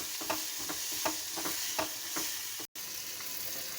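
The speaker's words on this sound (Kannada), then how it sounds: "ಉಪ್ಪು ಅರಿಶಿಣ ಪುಡಿ ಹಾಕಿ ಒಂದು ಚೆನ್ನಾಗಿ ಫ್ರೈ ಮಾಡ್ಕೋಬೇಕು." Shavige upma base frying with salt and turmeric powder in a pan: a continuous close sizzle with regular stirring scrapes roughly every half second, a brief dropout near the end, and no talking.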